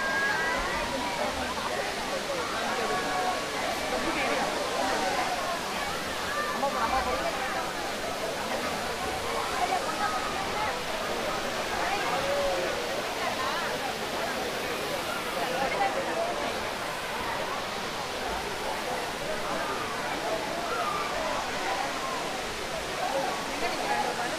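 Water pouring down Kutralam falls in a steady, dense rushing roar that holds unbroken and fairly loud throughout, with someone talking over it.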